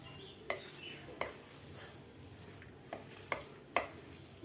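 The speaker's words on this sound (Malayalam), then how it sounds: "കൈകൊണ്ട് ഒന്ന് മിക്സ് ചെയ്യുക" Potato vada batter is mixed by hand in a bowl. It is quiet and close, with soft squishing and several sharp knocks against the container spaced irregularly.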